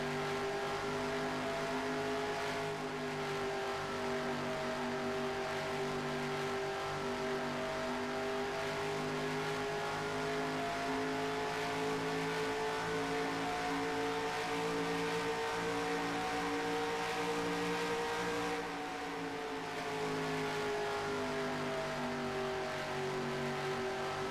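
Race car engine in the NASCAR Racing 2003 video game at Indianapolis Motor Speedway, a steady droning high-revving tone held for a long stretch with slight pitch shifts and a brief dip, loud and alone.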